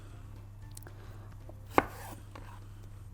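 A single sharp knife chop on a cutting board while preparing ingredients for bulgur kebab, close and brief over a quiet steady hum.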